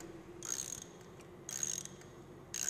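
Ratchet of a socket wrench loosening a spark plug on an aircraft reciprocating engine, giving three short bursts of clicking at about one-second intervals, close and fairly quiet, with no talk.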